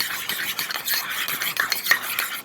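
A spoon works through a spice mixture in a bowl as a barbecue fish burger is prepared, making rapid, close scraping and clinking strokes in an uneven rhythm.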